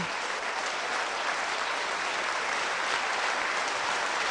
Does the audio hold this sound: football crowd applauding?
yes